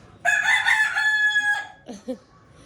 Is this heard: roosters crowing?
yes